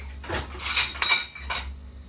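Dishes and cutlery clink and clatter softly a few times, close by, with light scraping between the knocks and no talking.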